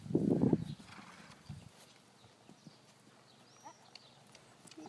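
Horse Sille's hooves thud in a short burst during dressage training, followed by a few faint, scattered steps in a quiet arena.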